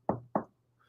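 Two sharp, close knocks on wood in quick succession, each with a short hollow decay, followed by near silence.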